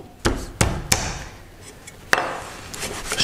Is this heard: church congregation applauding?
no